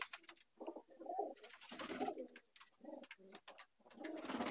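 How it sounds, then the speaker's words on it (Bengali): Andhra pigeons, including young birds, cooing nearby in repeated throaty bursts separated by short quiet gaps, with occasional sharper wing flutters or clicks. "দেখুন পায়রাগুলো এক এক করে দেখুন, বাচ্চা পায়রা সব।"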